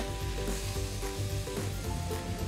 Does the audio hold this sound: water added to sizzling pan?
yes